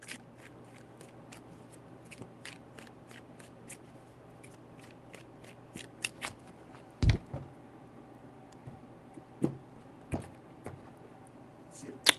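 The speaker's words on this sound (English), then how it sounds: "3 shuffles." Tarot cards shuffled in a quick burst of riffling taps, followed by a few scattered sharper clicks and slaps in a quiet room.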